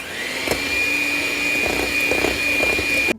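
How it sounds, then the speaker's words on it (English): Electric mixer whirring steadily while beating egg whites for a strawberry cake, a constant high motor whine with faint tapping of beaters against the bowl, close and loud, cutting off abruptly at the end. "We will beat the whites, and then egg yolks will beat with sugar."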